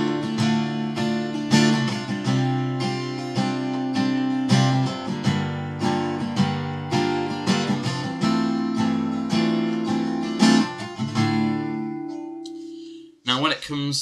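Acoustic guitar strums the chords of a song, with ringing strummed chords in a steady rhythm that let the last chord fade before a brief final strum.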